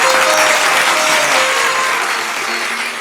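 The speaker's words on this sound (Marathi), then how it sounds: "एकदा टाळ्या होऊन जाऊ देत त्यांच्यासाठी." An audience at a comedy stage show bursts into dense, loud applause that holds steady for a few seconds and then eases off slightly.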